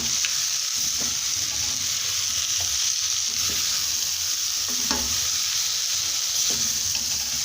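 Chicken stew with freshly added ginger powder and paprika sizzles loudly and steadily in the pot while a spoon stirs through it, with faint scrapes against the pot and no voices.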